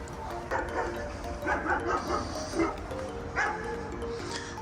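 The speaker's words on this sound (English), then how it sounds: "This is the mower the dog chases." Near a garden in Lovero, Italy, a dog yips and barks in short repeated bursts at an electric lawn mower, close and moderately loud over a low background.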